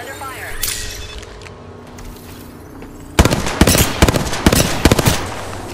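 Gunfire in the video game Apex Legends comes as a series of sharp, loud shots in quick irregular bursts in the second half, after quieter game sounds.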